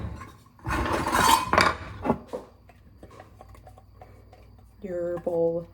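A spoon clinks and scrapes against a bowl as butter is stirred and mashed into dry ingredients for bread, in irregular bursts of clatter, close by, with a few brief vocal sounds near the end.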